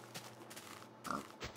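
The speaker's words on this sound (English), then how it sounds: "But my pigs keep running under trees." Minecraft pig oinking in short grunts, the loudest burst coming near the end of a quiet stretch of game ambience, with no one speaking.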